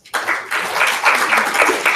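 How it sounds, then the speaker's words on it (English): An audience at a university debate event breaks into loud, sustained applause after the debaters finish, with dense clapping that starts abruptly and fills the room without any speech. "Let's give the debaters another round of applause."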